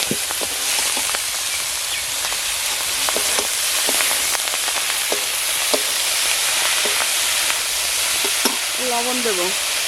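Leafy greens hit a hot pan of fried garlic and onion with a loud, dense sizzle and crackle. Frequent stirring scrapes and taps run throughout, and a brief voice-like tone comes near the end.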